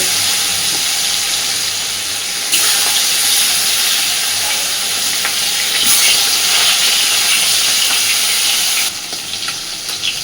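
Halved koi fish frying in very hot oil, a loud continuous close-up hiss and sizzle that surges louder for several seconds and then eases off near the end, with no voices.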